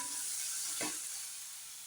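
Onions and spices for bread upma sauté in a pan with a bright, steady sizzle, and a single stirring scrape partway through.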